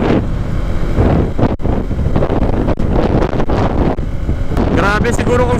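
Strong coastal wind buffets the microphone on a Honda PCX 160 scooter ride along a stormy shore, a loud continuous roar with gusty swells while someone talks over it.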